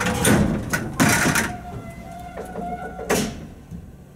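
Door of a Downey-Goodlein traction elevator in a building in Batavia, NY slides with several loud broadband rushes and bangs, separated by faint mechanical hum and thin whines.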